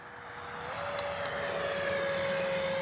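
An RC T-33 jet with a 50 mm fan flies overhead as a steady whine, its tone rising slightly then holding level while the noise grows louder and stays broad and continuous throughout.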